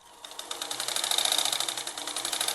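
A sewing machine stitches a kurti in quick, close, rhythmic bursts, a fast pulsing mechanical chatter that starts quietly and runs steadily for a couple of seconds.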